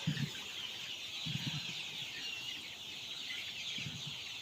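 Native country chickens of black, brown, reddish and white colours clucking on a poultry farm, with short low clucks in three bursts over a steady high-pitched ambient hum.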